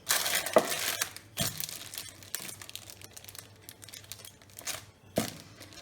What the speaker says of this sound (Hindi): और फिर बेलन से पापड़ बेल लें।